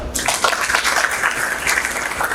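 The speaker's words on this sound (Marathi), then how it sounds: "प्राध्यापकासाठी एकदा आपण टाळ्या वाजवा." An audience claps for the professors at a felicitation event for a principal, a steady wash of dense applause from a crowd that holds at an even level throughout with no distinct voices.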